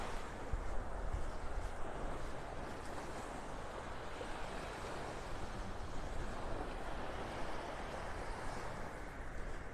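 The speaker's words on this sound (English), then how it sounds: "A little breeze coming out of the northeast." Steady northeast breeze on Vanderbilt Beach in North Naples, Florida, gives a continuous broadband rush of wind and surf, constant in level without pauses.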